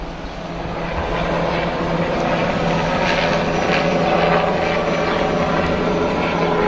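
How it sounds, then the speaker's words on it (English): A police helicopter flies overhead during a procession honouring a fallen officer in Tucson, giving a steady, loud rotor drone that swells slightly and holds throughout over a continuous outdoor rumble. "the helicopter again is flying above us."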